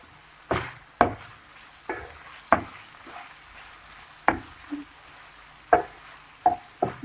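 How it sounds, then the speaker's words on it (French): Spoon scrapes and stirs through a tomato and vegetable mixture in a pan, with about eight sharp, separate clinks and scrapes spaced irregularly over a quiet background and a faint low sizzle. "On mélange."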